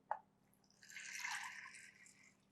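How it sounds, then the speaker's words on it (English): Water poured into a pot over soaked Georgian red kidney beans for lobio. One faint click, then a soft close stream rises and fades over about two seconds, with no voices. "So basically we fill the water, so we make sure that water covers lobio nicely"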